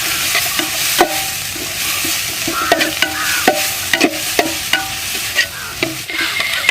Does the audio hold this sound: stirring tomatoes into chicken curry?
yes